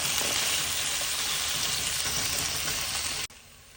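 Taro and potato pieces are stirred into a sizzling curry in a pan. A loud, steady frying hiss runs throughout and cuts off abruptly near the end, with no talking.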